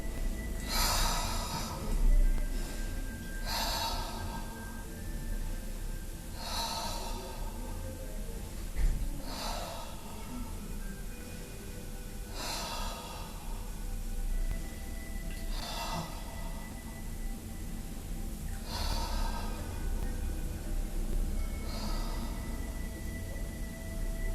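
Slow, rhythmic breathing during a home Pilates routine for the lower abdomen, with about eight audible breath cycles of sharp inhales and blown-out exhales, close and clear.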